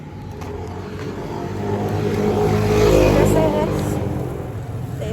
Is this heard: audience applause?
no